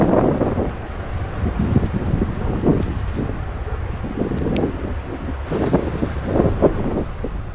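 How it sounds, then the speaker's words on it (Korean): Wind gusting steadily around a golden eagle's nest in the Altai mountains of Mongolia, a continuous rushing roar that swells and eases in waves, close to the microphone with buffeting bursts and no voices. "바람이 불어온다."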